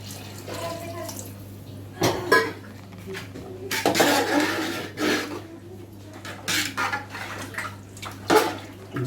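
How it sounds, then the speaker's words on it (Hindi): About a litre of water poured into a cooking pot of nihari with bakri meat, a splashy gush in uneven bursts under faint clattering of the pot, close by. "इसके अंदर हम लोग 1 लीटर के करीब पानी डाल देंगे।"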